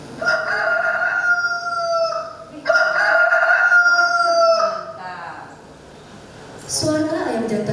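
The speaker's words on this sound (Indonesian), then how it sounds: "Suara ayam jantan berkokok membuyarkan mimpi Jokotaro" A rooster crows in repeated long cock-a-doodle-doo calls, loud and near, with a faint cluck or voice at the end during a school drama performance.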